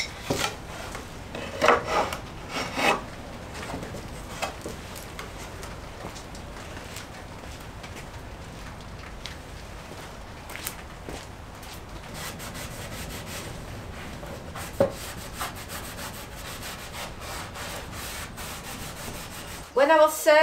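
An old wooden bench is sanded with steady, continuous rubbing and scraping, close and moderately loud, with a few sharper knocks and handling noises near the start and end.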